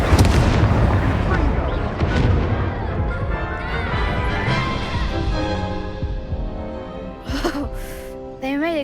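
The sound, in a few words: Incendio spell blasts in the Hogwarts Legacy video game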